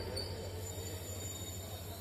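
Train standing at Dhandhuka railway station, giving off a quiet, steady low drone with a faint thin whine above it, fairly distant and unbroken.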